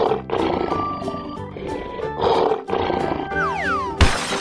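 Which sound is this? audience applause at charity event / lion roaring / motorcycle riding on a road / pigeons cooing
lion roaring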